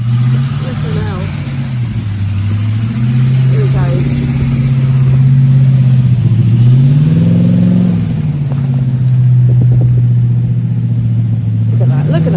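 A TVR sports car engine revs loudly nearby, its drone rising and falling as it pulls away and drives off round a corner. People talk briefly over it.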